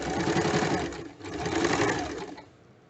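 A sewing machine runs steadily and loudly back-stitching a bag seam, a fast even mechanical rattle that briefly slows mid-way before resuming and then stopping.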